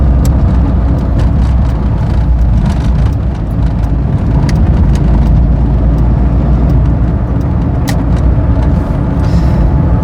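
Car engine droning at steady, fairly high revs while driving, with heavy low rumble and road noise throughout, loud and close as if from inside the cabin, with no talk.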